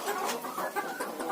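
A young rooster clucks in quick, close, fairly loud bursts, with no voices over the calls.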